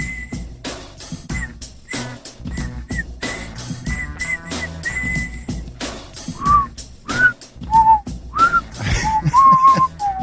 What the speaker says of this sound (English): Some good whistling. Quality whistling.